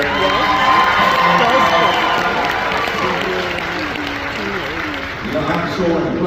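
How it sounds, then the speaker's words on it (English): An audience at a Ghostbusters fan convention panel applauds and cheers, a dense crowd clapping with scattered whoops that carries steadily for several seconds, close and loud. "round of applause again just for them for making it out here"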